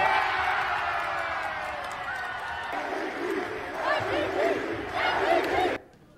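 Crowd of school supporters at a basketball game cheering and shouting in a loud, sustained roar, with whoops rising toward the end before it cuts off sharply.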